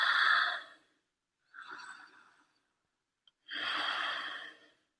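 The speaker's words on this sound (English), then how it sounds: "So this is simple diaphragmatic breathing." Slow diaphragmatic breathing during a pranayama exercise: a long audible exhale, a softer breath, a pause, then another long airy breath, close and breathy with no speech.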